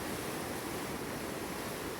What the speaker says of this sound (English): The wind's up today, as you can hear, the sea's quite choppy.